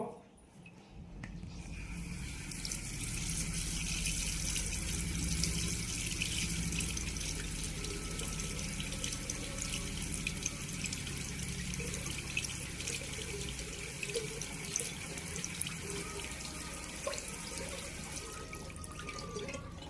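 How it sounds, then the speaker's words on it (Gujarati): Water pours into a glass that is already full, a steady close running trickle that lasts most of the time and overflows, with a faint voice in the background. "હવે જો તું આ પાણી છે ને હું નાખું છું"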